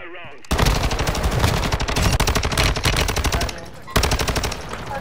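Rapid automatic gunfire in the video game Warzone 2.0. A loud, dense stream of shots breaks briefly, then resumes, with voices in the background.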